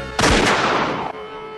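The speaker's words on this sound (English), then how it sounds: "being killed by a gunshot sound effect" A single loud gunshot from a movie, a sharp blast that rings out for about a second over a faint steady background, then cuts off abruptly.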